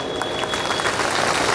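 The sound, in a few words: audience clapping loudly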